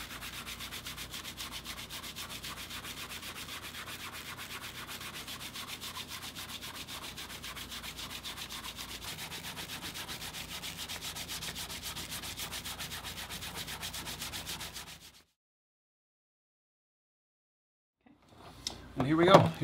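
A cloth burnishing the face of a damp leather playing card case gives a steady, close rubbing hiss for about fifteen seconds, then silence, followed by a brief faint clatter near the end.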